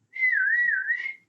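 A little whistle sound effect from a video game: a single clean, sustained tone that wavers gently in pitch for about a second, heard alone.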